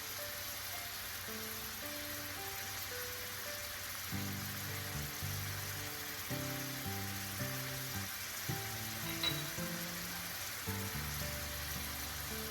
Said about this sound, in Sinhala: චිකන් ටික කුක් වෙද්දි සුදු ලුණු ටික එකතු කරගන්නවා